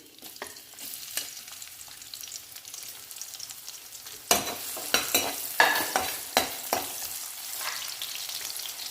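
Chopped onions frying in hot oil in a pan over a high gas flame for a bread Manchurian snack, a soft steady sizzle that jumps louder as they hit the oil, with repeated stirring scrapes and clinks.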